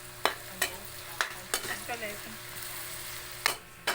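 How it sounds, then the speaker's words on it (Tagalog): Butter sautéing in a pan for chicken pastil, a soft steady sizzle punctuated by sharp clinks of a utensil stirring against the pan every half second or so, close and quiet. "ginisa na natin ang butter guys"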